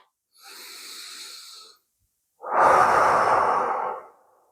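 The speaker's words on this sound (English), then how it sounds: "Once I get to the end, I'm going to take a deep breath." Two deep breaths taken during an upper-body mobility exercise, heard close and alone: a softer airy inhale, a short pause, then a longer, louder, fuller exhale.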